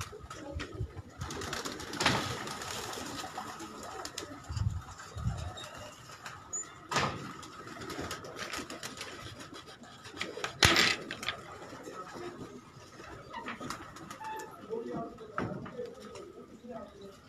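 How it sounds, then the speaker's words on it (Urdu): Young flying pigeons coo softly in low, throaty bursts amid outdoor rooftop ambience in Karachi, with occasional knocks and a voice speaking now and then. "یہ ماشاء اللہ ان کے پروازی بیبی پجنز ہیں جو کہ اب انہوں نے چھوڑے ہوئے ہیں"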